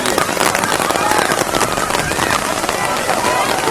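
Rain pours steadily at an outdoor skating rink during a 1000-meter roller skating race final in Pollachi. The hiss is loud and dense and never lets up, with a voice faintly mixed in.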